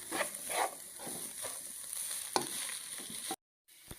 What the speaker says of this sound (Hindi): ये देखें, इस तरीके से आपने इसको भून लेना है।